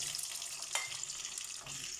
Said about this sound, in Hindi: तो हुण आपां इहनां नूं फ्राई करांगे।